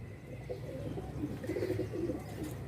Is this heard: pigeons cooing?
yes